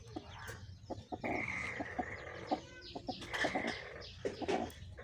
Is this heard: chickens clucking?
yes